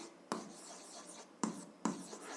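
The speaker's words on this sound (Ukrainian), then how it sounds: "записуємо тоді перше рівняння" Pen writing an algebra equation by hand on paper, three short scratchy strokes with soft rubbing between them, close and quiet, no voice.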